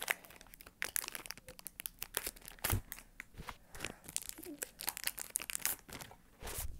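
A Pokémon card booster pack wrapper is opened up close with sharp, irregular crinkling and tearing bursts of foil plastic, intermittent crackles spread over several seconds in a quiet room.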